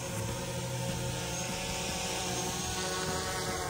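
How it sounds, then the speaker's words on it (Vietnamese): A camera drone flies outdoors at sunrise on a grassy hillside campsite near Da Lat. It makes a steady, continuous propeller whine and hum at an even level throughout, with no talk. "Đây là các em đang bay flycam."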